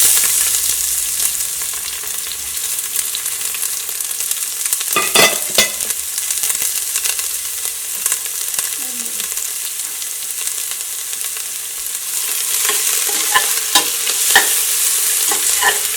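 Sliced onions frying in coconut oil, a continuous close sizzle broken by scraping stir strokes and a cluster of sharp clinks from a spoon on the pan.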